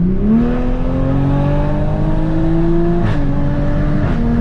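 A Toyota MK5 Supra with a catless downpipe accelerates hard from a 50 mph roll, its loud engine note climbing steadily, then dropping briefly at an upshift near the three-second mark before rising again with another quick shift.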